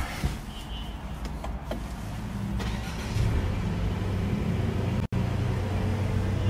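A 2020 Mercedes-Benz C200 engine starting, a brief crank followed by a low, steady idle that rises and settles, heard close with no talking.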